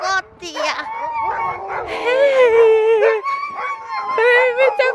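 Several dogs howl and bark together outdoors in snowy weather, long wavering howls mixed with sharp yips, near and loud, continuing for several seconds with a voice briefly heard among them.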